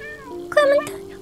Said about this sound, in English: Clementine, all the little meows